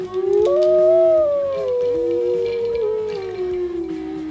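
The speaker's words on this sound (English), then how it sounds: "Listen to them howl." A pack of wolves howls in long, rising and falling wails that overlap and drift in pitch, loud and close, continuing without pause for several seconds.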